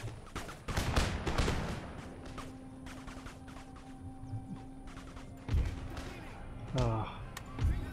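Scattered musket volleys from light infantry in a Napoleonic-era strategy battle crack amid battlefield din, a few sharp bursts spread out over continuous background noise.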